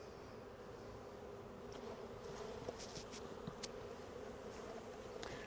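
Honeybees buzz in a soft, continuous drone around a hive frame of worker brood comb, with a few louder passes close by during a hive split.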